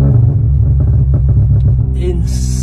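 Volkswagen Polo TSI with a DSG gearbox, a loud deep rumbling engine and exhaust note up close, throbbing low idle with revving pulses, followed by a brief higher-pitched burst near the end.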